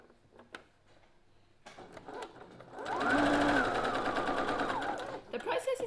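A sewing machine stitches denim quilt pieces in a steady, rapid burst for a couple of seconds, close by, after some quiet handling noises.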